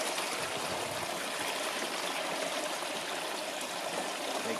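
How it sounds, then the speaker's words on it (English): Water pours steadily into a tub at a gold wash plant sluice, a constant close rushing and trickling flow with no pauses. "So I'm filling up this tub so it sinks"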